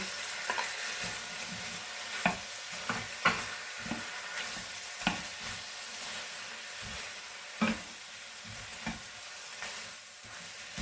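Egg and vegetables stir-fried in a hot pan for prawn egg noodles, a constant sizzle broken by repeated scraping and clattering stirs at an irregular pace, close and fairly loud, with no voices.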